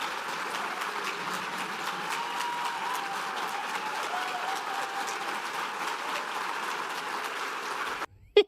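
Sustained audience applause at a live political talk show, a steady, dense patter of many hands clapping at moderate distance for about eight seconds before cutting off abruptly.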